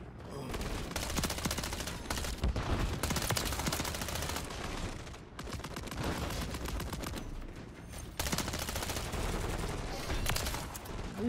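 Rapid bursts of Striker 9 submachine gun fire in the video game Modern Warfare 3, loud and close, with near-continuous volleys broken by short pauses and a voice talking over parts of it.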